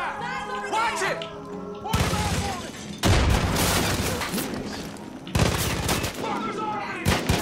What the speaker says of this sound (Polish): Kto tu się strzela?